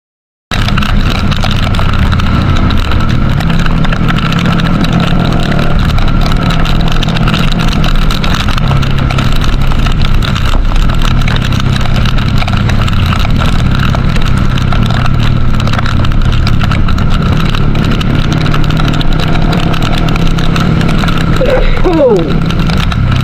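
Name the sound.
engine running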